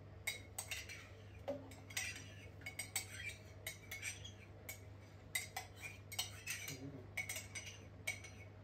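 A spoon stirs yogurt starter into warm milk at around 49 degrees, clinking against the pot over and over in a steady, busy rhythm. The sound is close and moderately quiet, with a low steady hum underneath.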